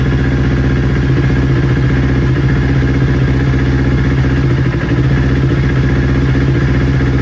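A newly built motorcycle engine runs loud and close, a steady rough droning tone with mechanical clatter, holding revs with only a brief dip, no voices.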